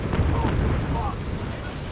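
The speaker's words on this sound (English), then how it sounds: "Artillery fire raining down death here. Explosions galore." Artillery fire and explosions from the real-time strategy game Company of Heroes 3, a dense, continuous low rumble of booms and blasts filling the mix throughout, with faint voice-like tones layered in.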